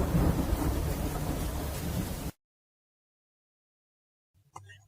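A heavy rumble of thunder with rain roars for a couple of seconds, then cuts to silence before a brief faint sound at the end.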